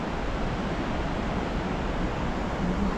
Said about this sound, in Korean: 폭포가 정말 이쁘네요